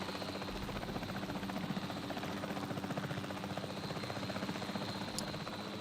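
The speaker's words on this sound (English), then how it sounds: "fly the helicopter. I don't want to fly the helicopter." Helicopter in the video game Jurassic World Evolution 3 gives a steady, continuous rotor and engine drone with a constant hum, holding an even level throughout with no talking.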